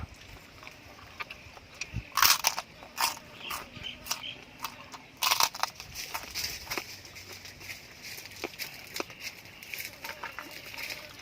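Someone bites into crispy grilled pork leg skin, producing scattered sharp crunches and crackles close to the mic, with two louder crunches among quieter chewing and rustling.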